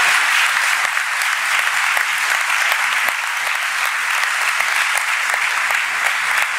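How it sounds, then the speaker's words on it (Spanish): Steady applause from an audience at a school event, dense continuous clapping filling the whole stretch at an even level with no voices over it. "Y quisiera pedir un aplauso."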